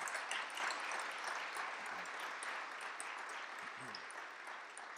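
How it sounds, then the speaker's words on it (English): Audience applause at a 40th reunion concert, a steady wash of clapping filling the whole stretch at moderate, even loudness, with a few brief low murmurs of voices underneath. "Let's give them our applause."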